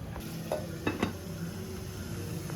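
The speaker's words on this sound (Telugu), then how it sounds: "చికెన్ కూడా బాగా ఫ్రై అవ్వాలి ఆయిల్లో" Chicken frying in oil in a pan, a steady close sizzle broken by a few stirring scrapes and light clanks of a spoon against the pan.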